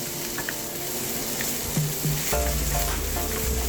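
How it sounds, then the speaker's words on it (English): Mixed vegetables sizzle and crackle in hot oil in a wok for fried rice with dried scallop, with a loud, steady frying hiss throughout and a spatula scraping and tossing them in the later part. "you can add in all your mixed veggies and stir them until the moisture is all dried out."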